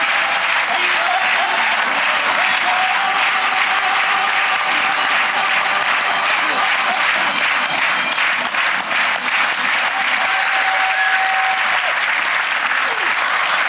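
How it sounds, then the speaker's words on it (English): A television studio audience on Penn and Teller Fool Us gives sustained, dense applause, a steady roar of many hands clapping that holds loud and even throughout, with faint music underneath. "keep that applause going for Kathy, everybody"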